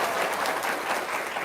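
A live audience at a motivational talk claps in a steady, even burst of applause, filling the short moment at moderate loudness with no voices over it.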